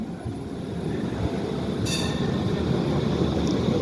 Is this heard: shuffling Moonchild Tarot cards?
no